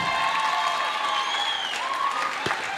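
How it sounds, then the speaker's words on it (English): An audience claps steadily and densely after a keynote address at a Pan-African university event, a sustained wash of applause that fills the whole short stretch. "Let us stand and clap properly."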